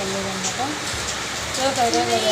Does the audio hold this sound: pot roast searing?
no